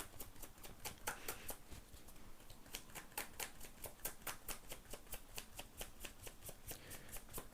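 Tarot cards handled and laid out, with a steady run of quick, crisp flicks and riffles close up, fairly quiet and uninterrupted.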